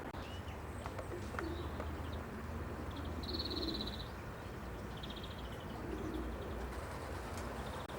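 Racing pigeons in a loft overlooking Lincoln, giving soft, low cooing through steady outdoor background noise, with a few faint chirps now and then.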